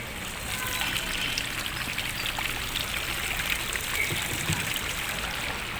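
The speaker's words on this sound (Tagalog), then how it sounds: "Ang fountain! Wow!" A water fountain flows steadily at Gibaras, a continuous splashing rush of falling water with faint voices in the background.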